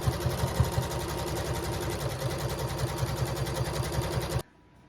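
A sewing machine stitches raw edge applique on a Halloween quilt project, a rapid, steady mechanical chatter close by that stops abruptly near the end, with no talking.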